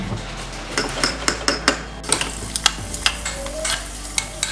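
Cashews, pistachios and raisins roast in ghee for makhana payasam while a spoon stirs them, giving a steady soft sizzle with repeated close metallic taps and scrapes against the pan.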